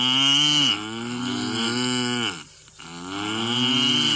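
Cattle moo loudly and close by, giving two long, low, drawn-out calls separated by a brief gap, with nothing else heard.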